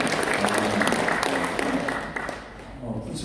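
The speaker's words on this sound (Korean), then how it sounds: "박수 한번 쳐드리겠습니다" Applause from the congregation at a church anniversary thanksgiving service and general meeting, a short burst of clapping that carries on steadily, then thins slightly toward the end, with some voices mixed in.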